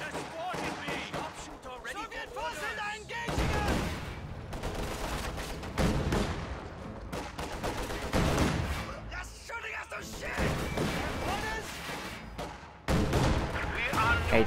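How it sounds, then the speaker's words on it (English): Anti-tank gun firing at a T-70 tank in a World War II strategy game, sharp heavy shots amid ongoing battle noise, several thumping reports, with a person talking over them. "AT gun setting up, fires at the T-70 right there."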